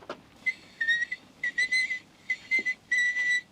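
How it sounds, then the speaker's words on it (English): A seven-year-old girl whistles a clear, high melody in four short phrases with brief pauses between them, heard alone and up close on a home recording. "Listen to that kid whistle."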